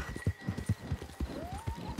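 Horse hooves clip-clop at a steady walking rhythm in the video game Red Dead Redemption 2, close and moderately loud, with a faint rising tonal sound partway through.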